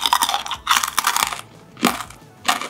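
Veggie crisps made with shiitake mushroom are bitten and chewed up close, giving loud dry crunches in three or four bursts with crackly breaking between them.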